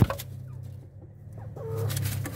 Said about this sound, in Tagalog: Ito yung rooster natin. Yan. Yan yung mga guwan. Yung mga native chicken natin.